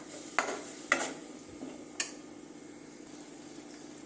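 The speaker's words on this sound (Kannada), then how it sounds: "ಈ ಟೈಮಲ್ಲಿ 2 ಟೊಮೊಟೊ ಈ ಥರ ಸಣ್ಣ ಕಟ್ ಮಾಡಿ ಇಟ್ಕೊಂಡಿರೋದು ಸೇರಿಸ್ತಾಯಿದ್ದೀನಿ" Small-cut pieces of two tomatoes being fried and stirred in a pan, with a few sharp clinks of a spoon against the metal over a faint, steady sizzle.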